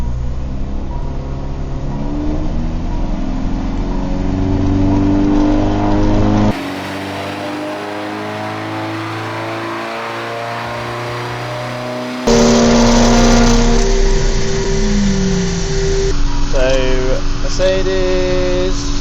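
A Mercedes A45s on a dyno in 5th gear produces a loud, sustained engine roar with rising and falling pitch sweeps, alternating between harsher and more muffled sections as the revs build, close and continuous.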